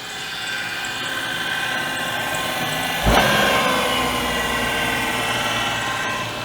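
Daewoo Matiz small engine idling too high, a steady buzzing hum with a constant drone, briefly punctuated by one thump partway through, recorded close.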